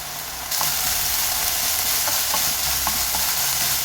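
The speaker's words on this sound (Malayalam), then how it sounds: "ആ ഒരു ചുവന്നുള്ളിയുടെ ഒരു പച്ചമണം മാറുന്നത് വരെ ഒന്ന് വഴറ്റി കൊടുക്കുക" Shallots and curry leaves sautéing in a pan for a breadfruit and prawn curry, a loud, steady sizzle that jumps up after a moment, with a few soft stirring taps, no talk.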